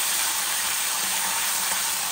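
A potato upkari fries in coconut oil with mustard seeds and dry chillies in a pan, cooking dry without water in a steady, dense, close sizzle that stays loud and even throughout.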